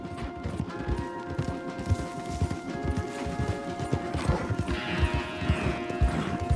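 Horses galloping hard in Red Dead Redemption 2, a fast continuous clatter of hooves close up with rapid rhythmic thuds, steady and loud, with occasional clanking of tack.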